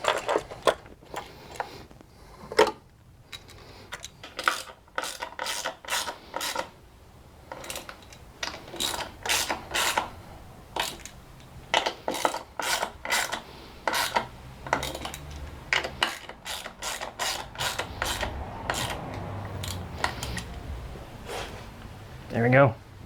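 A ratchet bolting a coil pack bracket onto a 2006 Mini Cooper S R53, rapid metallic clicking in irregular bursts with pauses, close and fairly quiet, with faint handling clatter between runs.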